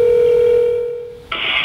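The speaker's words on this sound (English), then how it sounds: "Carlos from Connecticut, I am giving you a phone call here." A telephone dial tone hums steadily and fades, then a sharp touch-tone keypad beep sounds as a call is placed, loud and close with no voices.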